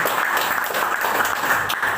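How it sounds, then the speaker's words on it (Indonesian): Applause from an audience at a business success talk, a steady continuous clatter of many hands heard for a couple of seconds without speech. "Tepuk tangan."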